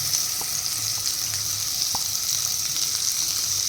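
Mixed vegetables and roti strips sizzle and fry in a pan with hot masala, a steady bright crackle with a few soft scrapes of stirring, close and alone.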